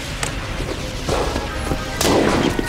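Fireworks from a crate burst in the video game Jack Keane 2 as a series of dull booms and crackling thuds, with two louder blasts standing out over a constant noisy rumble.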